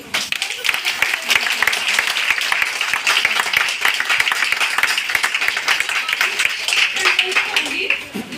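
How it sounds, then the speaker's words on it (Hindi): Audience clapping in a room during a facial skincare demonstration, a dense run of individual claps with sharp, irregular strikes, moderately loud, while a voice keeps speaking over it. "सबसे पहले तो राजेंद्र जी के लिए ताली बजाइए"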